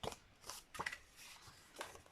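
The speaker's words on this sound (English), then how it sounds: "I'm going to fold this card" A craft card is folded and creased by hand, giving a few soft papery crackles and brushing rustles, close and quiet, with no talking.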